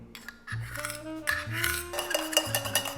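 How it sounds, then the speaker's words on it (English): A metal spoon clinks against a glass while stirring syrup into espresso, a series of bright ringing taps and scrapes, close and clear with no talking. "Give that a nice stir until thoroughly combined."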